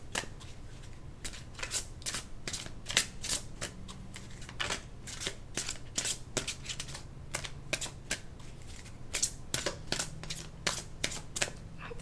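A deck of tarot cards is shuffled over and over, a dense run of crisp riffling bursts and soft slaps, close and steady with no talking.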